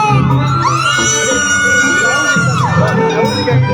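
A crowd of girls at a volleyball match in Lima, Peru cheers and yells loudly together, a dense sustained roar of high shrill whoops and shouts rising and falling close by.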